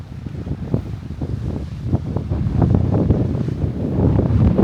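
Strong wind buffets the microphone at a seaside ferry and bus terminal, a loud rough roar in uneven gusts that builds toward the end, with the sea faintly beneath and no voices.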